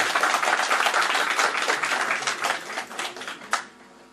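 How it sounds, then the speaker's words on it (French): Audience clapping at a community gathering, brisk and dense at first, then thinning into scattered claps with one last sharp clap before it fades. "Admis, ça s'applaudit quand même,"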